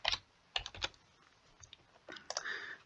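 Quick typing on a computer keyboard, clusters of close, crisp keystrokes in short bursts with brief pauses and no talking.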